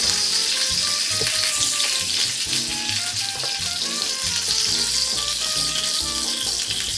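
Sliders sizzle steadily in a waffle iron, a dense continuous crackle with scattered clicks and clanks as tongs turn the patties, close and fairly loud with no talk.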